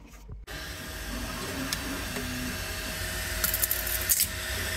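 A 3D printer lays down parts in self-lubricating Iglidur filament, giving a quiet mechanical whir of stepper motors with faint scratchy movements and a few brief higher whines.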